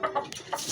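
Bulik gamefowl pullets clucking, three or four short close clucks in quick succession.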